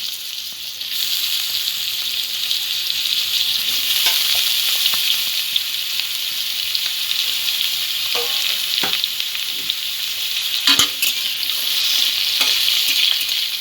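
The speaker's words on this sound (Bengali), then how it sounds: "আমটা সামান্য একটু তেলের সঙ্গে নেড়ে দেব।" Raw mango pieces stirred in hot oil for a tart-sweet mango and date chutney, a steady bright sizzle running throughout with occasional soft scrapes and clicks of the spoon, close and continuous with no talking.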